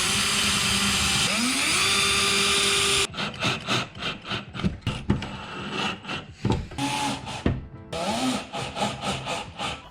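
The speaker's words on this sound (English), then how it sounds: "I'll just pre-drill it on both sides, and then just screw it in" Power tool work on a custom wooden business sign: a steady whine runs for a few seconds, then gives way to short bursts of drilling and screwing into wood, close and fairly loud.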